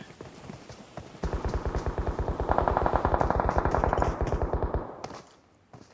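Rapid automatic gunfire in a PUBG Mobile tournament match, a fast even string of loud shots lasting several seconds before fading out, with no voices over it.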